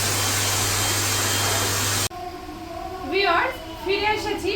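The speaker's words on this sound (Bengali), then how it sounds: "এখন হেয়ারটা আমি ড্রাই করব" A hair dryer blows loudly and steadily at close range for about two seconds, then cuts off abruptly, followed by someone talking.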